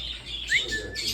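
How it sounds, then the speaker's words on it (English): A cockatoo calls inside a parrot pet store: short bright squawks and a rising whistle, fairly close, over a busy background of other birds. "I found the cockatoo."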